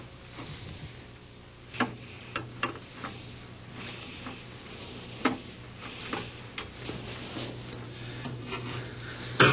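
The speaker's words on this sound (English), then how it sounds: "And using a Phillips screwdriver" A Phillips screwdriver backs out two screws on a coin-operated machine, producing scattered close clicks, ticks and scrapes over a steady low hum.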